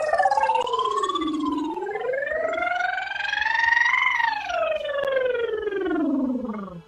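A single voice glides up and down in long sweeping swoops, imitating a siren, close and clear with no other sounds.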